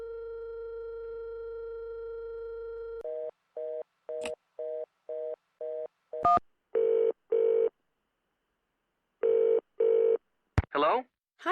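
A telephone number is dialed on a phone card in a Nancy Drew video game: a steady dial tone, then a quick run of evenly spaced keypad tones, followed by ringback pulses and brief clicks.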